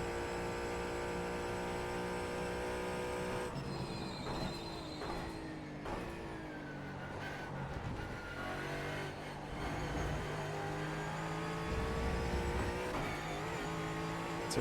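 A Ford Mustang GT4 racing around Road Atlanta in iRacing, its engine droning steadily and climbing and dropping in pitch through gear changes and corners for the whole stretch, with no talk over it.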